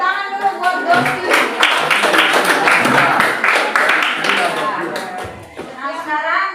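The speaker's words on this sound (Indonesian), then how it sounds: "Kita beri tepuk tangan dulu buat Dosi" Classroom applause from a group of students, a dense patter of clapping hands running steadily for several seconds with voices mixed in underneath.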